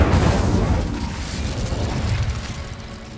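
A fiery Incendio spell cast in Hogwarts Legacy, a loud booming burst of flame at the start that settles into a dense, rumbling crackle fading gradually over a few seconds.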